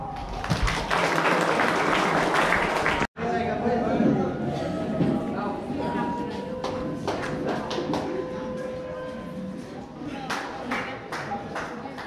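Audience at a Don Bosco Technical School welcome gathering applauds, a dense stretch of clapping that breaks briefly, then resumes with scattered claps and background chatter and voices underneath.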